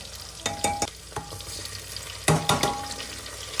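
Onion frying with cumin in a pan, with sharp clustered stirring scrapes and clinks over a faint background sizzle, heard up close in two bursts separated by a quieter stretch.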